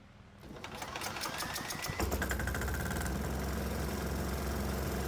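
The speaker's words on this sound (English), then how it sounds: "Let's see if this engine will start on this mixture." A 196 cc 3 hp diesel engine running on a motor oil fuel mixture in a hot shop fires up about two seconds in, then settles into a loud, steady, close-up run.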